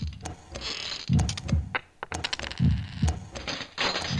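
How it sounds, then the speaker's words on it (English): Screwdriver turning screws in the video game Suzuki Bakuhatsu: a busy run of close mechanical clicks, ratcheting ticks and small clacks, clustered in quick bursts with brief pauses between them. "by turning it with our screwdriver, it will cause the teeth below to either move left or right, allowing us to get those final two screws loosened up"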